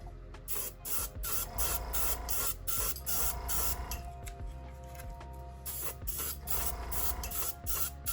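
An airbrush hisses steadily while spraying paint onto a 1/24 scale NASCAR Chevrolet Lumina model body, building up in short bursts that start and stop rhythmically, heard close over a low background hum.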